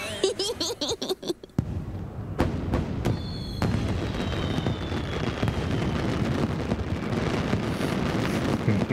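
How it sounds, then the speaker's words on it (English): Fireworks launching in a video game: a few sharp pops and a whistling rise, then a steady rushing, crackling roar that fills the rest, with no talk over it. "Fireworks are about to be launched!"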